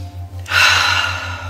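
A single deep, sharp breath drawn in during a breathing exercise, a sudden airy inhale that stays strong for about a second over a faint steady hum.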